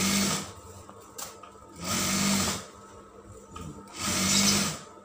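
A sewing machine stitches an embroidered kebaya piece in three short bursts of loud, close whirring, separated by pauses with light handling noise and no talking.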